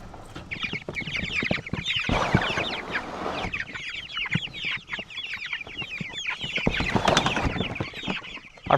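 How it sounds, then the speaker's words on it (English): Young Cornish cross meat chickens, about three and a half weeks old and newly outdoors, cluck and chirp constantly as a close, busy flock, with no voices over them. "Our feathered pigs, more commonly known as Cornish cross chickens"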